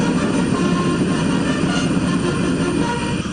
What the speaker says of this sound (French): L'avion présidentiel sénégalais s'immobilise sur le tarmac.